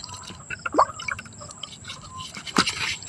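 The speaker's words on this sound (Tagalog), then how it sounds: "Lagyan ng tubig." Water is poured and splashed while a backyard chicken coop is cleaned, giving quiet drips and a couple of brief louder splashes against a low background hiss.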